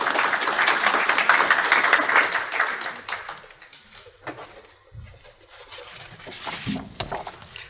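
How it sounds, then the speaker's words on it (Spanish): Audience applause welcoming a speaker at a law conference hall, dense clapping loud at first, thinning and fading to scattered claps within a few seconds. "Recibámoslo, por favor, con fuertes aplausos."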